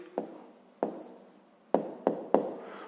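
Pen or pencil writing an answer by hand on paper for a fifth-grade maths exercise: five short scratchy bursts of strokes, close and moderately loud, separated by brief pauses, with no talking.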